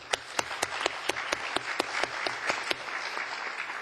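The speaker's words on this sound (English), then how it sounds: "I would just like to have a round of applause for the work of the group." A room full of people at a conference on tackling desertification in Africa applauds steadily, with sharp individual claps standing out over a dense wash of clapping.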